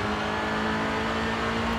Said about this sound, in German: Schön gedriftet hier. Wie sich das gehört mit einem Allrad.